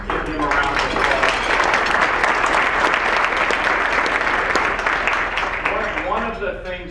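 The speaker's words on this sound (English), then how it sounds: "Let's give him a round of applause." A business-event audience applauds in a loud, dense, continuous burst that holds steady for several seconds before tapering near the end.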